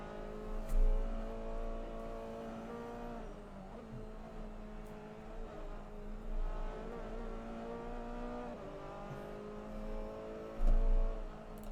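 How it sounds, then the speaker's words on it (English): The Ferrari 488 GTE race car, number 29, drones steadily in an onboard view at Fuji in a racing video game, its engine holding a strong harmonic whine with gear-shift dips and brief low thumps. "We're going to follow on board with Jiraj Benko here in the number 29 Ferrari 488 GTE as he makes his way through."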